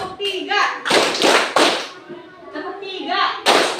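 Children clap their hands together in a classroom counting game, short sharp bursts of claps in a loose rhythm, near and fairly loud, with an adult voice calling out the count over them.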